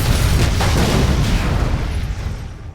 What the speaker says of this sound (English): triggering a massive, fiery explosion that levels the entire warehouse